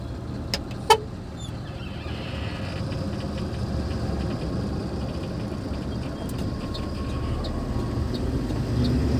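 A heavy vehicle's diesel engine pulls away in third gear, a steady low rumble with rising drone and a couple of sharp clicks early on, heard from inside the cab with no talking.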